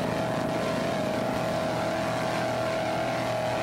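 A 29-foot Extreme race powerboat with a Vortec inboard engine drones loud and steady at high revs on the water, a sustained close engine roar.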